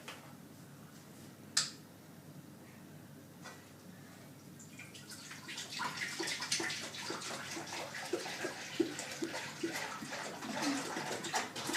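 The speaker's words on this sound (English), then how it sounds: "Now I'm going to pour the milk in, as you can see." Milk pours steadily into a container, a soft trickling and splashing that starts midway and continues with small drips and clinks, close and fairly quiet.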